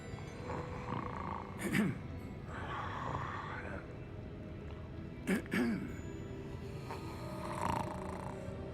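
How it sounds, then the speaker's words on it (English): A goblin snoring in the video game Hogwarts Legacy: a few short rasping snores, close and moderately loud, over a steady background hum of game ambience. "He's snoring."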